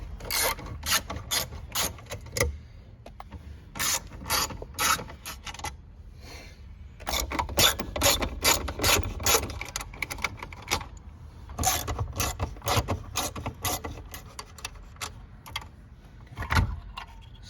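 Screws being removed from the radio trim panel of a 2010-2012 Ford Taurus, heard as quick clustered bursts of ratcheting clicks from a hand tool, loud and close, broken by brief pauses and with no talking.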